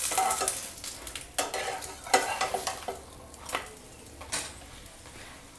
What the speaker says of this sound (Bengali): এইবারে আমি সাদা তেল একটু অল্প করে আমি দিচ্ছি, বেশি নয়।